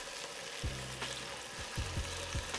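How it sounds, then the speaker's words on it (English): Beef chuck roast sears in avocado oil in a skillet, a faint, even sizzle broken by a few soft knocks and thumps of the pan, with no talking. "we're gonna lay our chuck roast right on in there"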